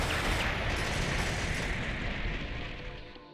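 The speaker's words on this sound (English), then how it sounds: "A rocket lands close by and wipes out my scream. The explosion threatens to swallow me whole." A rocket explosion in the game Baldr Sky Dive, a loud sustained broadband roar that fills the whole clip and slowly fades toward the end, heard alone with no voices.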